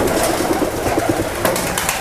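Pigeon cooing in a dense, continuous stretch with other birds calling around it, busy and fairly loud throughout, as at a songbird or pigeon gathering with no talk.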